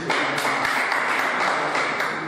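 An audience claps together in a dense, sustained wash of hand claps at a formal speaking event, loud and steady throughout with no voices standing out.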